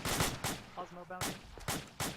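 Rapid bursts of automatic gunfire in the tactical shooter POFT: Platoon Operations Fireteam 2, with several loud broadband volleys separated by short gaps and a brief tonal game sound in the middle.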